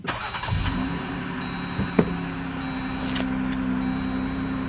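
A Jeep engine cranks and catches right after an oil change, then settles into a steady idle hum, loud and close, with a brief click partway through.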